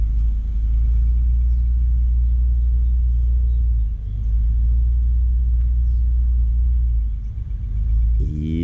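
Car reversing during a parallel parking lesson at a driving school, a close, steady low engine rumble that dips briefly twice and runs on alone without talk.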